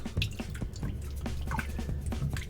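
Tomatoes being rinsed under running water in a kitchen sink, with irregular drips, splashes and light handling clatter close by.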